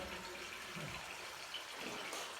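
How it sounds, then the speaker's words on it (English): Water flows through an opening into an underground cavern chamber, a steady, faint rushing wash with no talk. "So this water, through that opening, flows into an underground water room."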